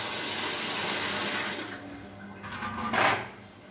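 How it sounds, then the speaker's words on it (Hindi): Tap water runs steadily into a container being filled for washing, a close, continuous rush that eases off partway through, with a short louder splash near the end. "अभी हम इसमें पानी फिल करके रखेंगे ताकि जब के वॉश करें तो ये इजीली वॉश हो जाए।"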